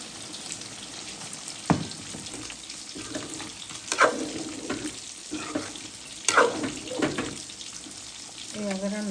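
Water poured into a hot pan of frying vegetables with dried loitta fish sets off sizzling bursts and splashes in a home kitchen, irregular hisses and clinks with a voice speaking briefly between them.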